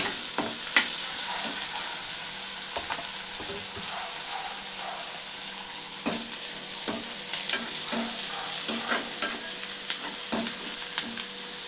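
Dried fish frying with onions in a pan for a tamarind-leaf dried fish curry: a continuous close sizzle, with a spoon scraping and stirring in irregular knocks throughout, no talking.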